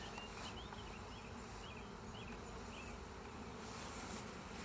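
Honey bees drone from an opened hive, a dense, continuous buzzing close by with individual bees whining past now and then, and no voices.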